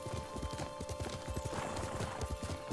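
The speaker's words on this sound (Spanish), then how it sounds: "Me satura un poco que el caballo esté tan cerca" Horse hooves clip-clopping in the video game Ghost of Tsushima, a quick steady rhythm of close, fairly quiet hoofbeats with no talk over them.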